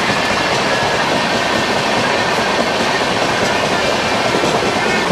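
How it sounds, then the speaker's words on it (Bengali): The 12130 Azad Hind Express, Howrah to Pune, runs at speed between Champa Junction and Bilaspur, a loud, unbroken rumble of wheels and rattling carriages with faint clickety-clack, heard from inside an AC 3-tier coach. "ট্রেনটা অলরেডি চম্পা জংশন থেকে ছেড়েও দিল"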